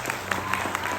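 Audience applause at a live Balinese-style bondres comedy show, a dense, even wash of clapping lasting about a second.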